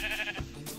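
A Minecraft sheep bleats in a short, wavering cry with a second brief bleat trailing off, close and clear with no talk over it.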